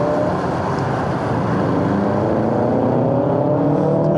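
A Subaru WRX with a boxer four engine and a healthy aftermarket-sounding exhaust drives past close by, a loud, continuous engine drone that rises in pitch toward the end as it passes.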